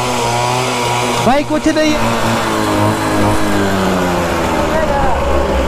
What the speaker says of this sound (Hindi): स्कूटर भाई टू स्ट्रोक इंजन है